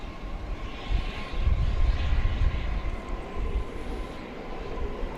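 An airplane at DFW Airport at night, a distant steady engine roar swelling and easing over a low rumble, alone without talk.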